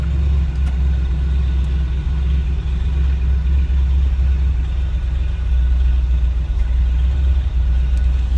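A 350 V8 engine with a mild cam in a 1950 Oldsmobile Futuramic Club Coupe street rod idles loudly and steadily nearby, a deep throbbing rumble with an even, lopey rhythm.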